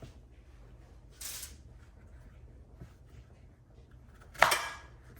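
A knife slicing plantain held at a slant, two short, faint cuts spaced a few seconds apart in an otherwise quiet kitchen, the second one sharper and louder.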